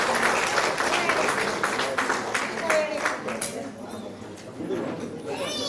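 An audience claps at a MEPMA Smart Street workshop in Nellore, Andhra Pradesh, cheering young and women entrepreneurs; dense, steady applause fills the first half and then thins out, with a voice speaking over it.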